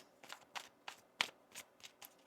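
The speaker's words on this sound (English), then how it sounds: "One more shuffle here." Tarot cards shuffled by hand in a steady series of about seven crisp riffling bursts, each a short papery rush with brief pauses between, close and fairly quiet with no talking.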